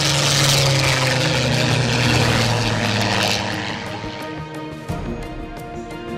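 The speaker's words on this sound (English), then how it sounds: "Not nearly as quiet are these two big piston engines" Two big piston engines on a warplane at the La Ferté Alais air show drone loud and steady with a low propeller hum, fading slightly toward the end as the aircraft moves off.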